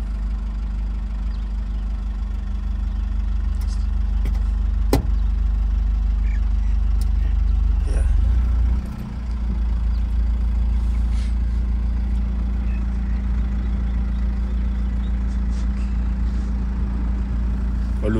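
A Code 10 truck's engine idles steadily in a low, constant rumble throughout, with a brief dip near the middle and a faint click early on; no one speaks.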